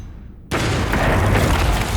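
A missile strike booms in the video game Heart of the Machine, a sudden loud blast after half a second of quiet that swells into a sustained rumbling roar.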